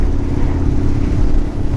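A Harley-Davidson Road King or Nomad-style cruiser motorcycle drones steadily while riding, a loud, continuous low engine rumble mixed with wind buffeting, with no voices.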